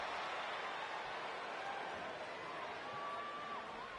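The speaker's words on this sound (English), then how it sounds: "Listen to this crowd, guys. They're fired up for this one." A WWE 2K20 video game arena crowd cheers in a steady, dense roar, a constant wash of noise with no talk over it.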